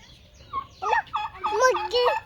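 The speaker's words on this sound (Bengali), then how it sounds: "টার্কি মুরগি" A turkey gobbles close by in a short burst of warbling, wavering calls that rise and fall over about two seconds.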